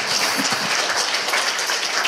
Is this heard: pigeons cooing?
no